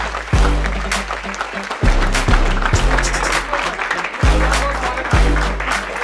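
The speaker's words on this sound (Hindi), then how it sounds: "बस भाई, कितनी ताली बजाओगे?" An audience claps to welcome a well-known IVF specialist doctor onto a talk-show stage, the clapping mixed with loud, punchy music hits that recur throughout.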